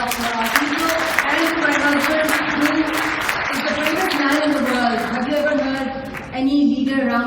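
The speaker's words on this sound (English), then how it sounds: "So a big round of applause for our people" Audience applause at a speech event on unlawful annexation, a steady wash of clapping lasting several seconds with a voice carrying over it.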